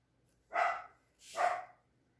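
A dog barks twice in quick succession, each bark a short, fairly strong burst separated by a brief pause, with a quiet room and no talking.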